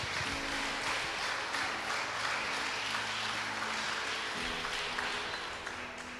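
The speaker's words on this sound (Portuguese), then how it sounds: "Lá em cima, aplaude a Ele." Church congregation applauding during a sermon, a steady wash of many hands clapping at middle distance over a low hum, sustained for several seconds before easing slightly.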